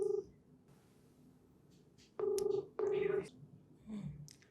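An outgoing phone call rings through twice, giving two short ringback bursts after a quiet pause. The tone is faint and thin, like a handset or recorded line, with no voices over it.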